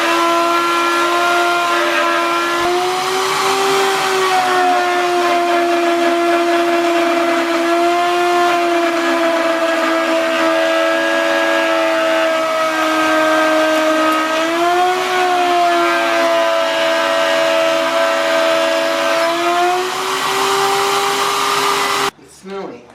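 A spinning router runs steadily for about twenty seconds while mass producing drag wings, its high whine holding a near-constant pitch with slight dips under load, loud and close, then cutting off abruptly at the end.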